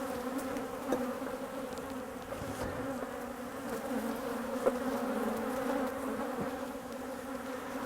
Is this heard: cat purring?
no